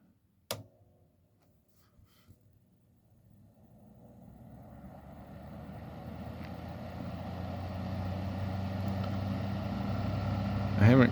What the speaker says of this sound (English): So here's fan.